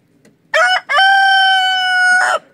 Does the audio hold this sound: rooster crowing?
yes